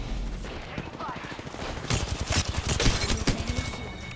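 Video game gunfire bursts in rapid automatic volleys, growing louder and denser partway through, over an ongoing mix of game sounds and someone talking.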